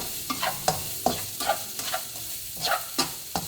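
Onions and carrots stir-fried in a pan, a soft sizzle broken by rhythmic scraping and tossing strokes roughly every half second, close and moderately loud, with no voices.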